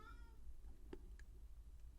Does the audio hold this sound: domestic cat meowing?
yes